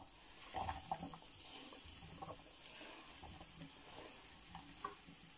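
Cut apples settle into melted butter in a pan for an apple crumble, giving a faint, steady sizzle with a few soft clinks and stirring sounds early on, all quiet and close, with no talking.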